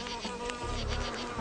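A solitary leafcutter bee buzzes close by in a garden, a steady, continuous droning hum with slight wavering pitch, alone without any voices.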